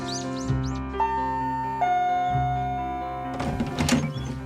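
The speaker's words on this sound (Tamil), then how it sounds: "நீக்கா தான் வந்து காலிங் பெல் அடிச்சிருக்கா" A doorbell chimes in a home scene of the anime Duel Masters, ringing out with clear bell-like tones over musical background, followed by a busier burst of sound near the end.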